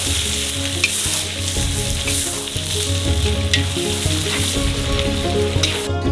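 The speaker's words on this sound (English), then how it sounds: "Then throw in the carrots. And fry that for literally 2 minutes." Carrots frying in a cauldron of oil for Uzbek pilaf, a loud, dense, continuous sizzle close by with faint stirring scrapes and no talk.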